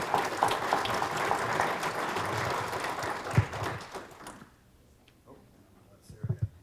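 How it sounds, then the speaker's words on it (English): An audience claps for the panelists at a housing summit, steady applause that stops abruptly partway through, leaving a quiet room with a few soft knocks. "if we can give them a round of applause for coming up here"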